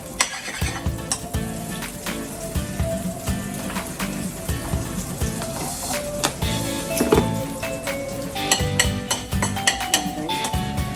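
Butter sizzles steadily in a pan while carbonara sauce is started, a crackling fry with scattered pops and clinks of utensils throughout.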